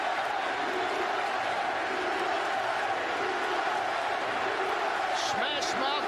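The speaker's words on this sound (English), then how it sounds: "The crowd trying to encourage them." Stadium crowd at a USA vs Australia rugby match, a steady loud roar of cheering and encouragement that fills the whole stretch, with a few sharper shouts rising near the end.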